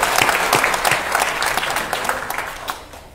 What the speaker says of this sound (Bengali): তাদের জন্য আমরা একটা হাততালি দিই।